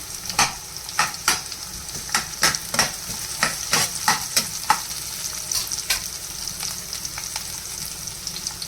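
Ginger, garlic and onion fry in a pan with a steady sizzle while a spatula scrapes and stirs in a quick irregular rhythm, close and clear, with no voices.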